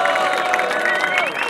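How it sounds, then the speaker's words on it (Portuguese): Crowd at a rap battle clapping and cheering for the MCs, a dense continuous wash of applause and shouts close up, lasting the whole moment. "queria até pedir uma salva de palmas pra eles e todos os MCs que passaram aqui"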